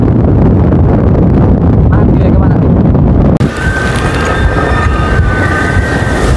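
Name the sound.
strong gusting wind while flying a kite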